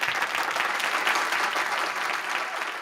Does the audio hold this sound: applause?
yes